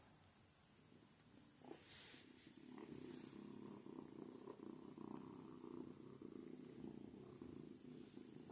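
Pet cat purring softly and continuously, a low rhythmic rumble close by, quiet and steady throughout.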